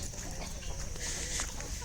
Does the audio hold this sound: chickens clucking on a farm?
yes